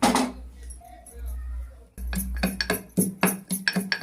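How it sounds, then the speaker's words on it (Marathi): A kadhai clanks onto a gas stove as it is lit, with a run of sharp metallic clinks and knocks close by after a quieter opening. "गॅस पेटवते, त्यावर कढई ठेवते।"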